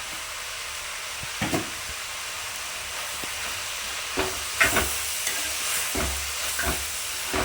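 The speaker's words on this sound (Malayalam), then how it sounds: "ഇതൊന്ന് ഇളക്കി കൂട്ടുക" Masala chicken curry being stirred in a pan, faint scraping and clinking of the spoon at irregular intervals over a soft, steady sizzle.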